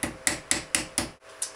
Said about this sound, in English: use your hammer to